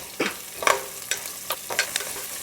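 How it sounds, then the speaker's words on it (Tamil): Soft sizzling of chopped onion sautéing in a pan with a few scraping stirs of a spoon, close and fairly quiet, no voices. "இப்போ நான் நறுக்கி வச்ச ஒரு பெரிய வெங்காயம், அதை இப்போ நம்ம சேர்த்து வதக்கலாம்."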